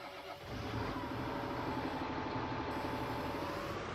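A tractor engine in Farming Simulator 19 turns over and settles into a steady, fairly loud mechanical idle with a rhythmic low chug, heard without talk.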